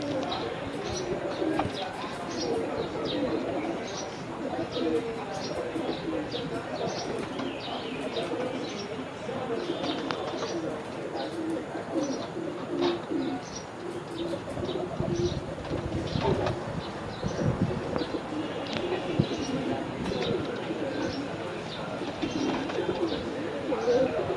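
Pigeons coo softly and repeatedly in a loft in Purba Bardhaman, India, with low, rolling calls continuing beneath nearby people talking and occasional clatter.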